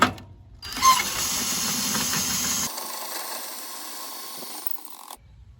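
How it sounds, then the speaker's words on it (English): An inexpensive drill fitted with a 3/4 inch bit drives an RV stabilizing jack, a loud, steady motor whine that starts abruptly, shifts to a lower, quieter running tone partway through, then cuts off. "All you need is a 3/4 inch bit and a drill."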